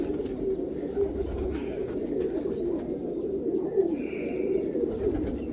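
A Golden Ice breeding pigeon coos continuously in a low throaty rumble, close and steady, with a short high chirp near the end.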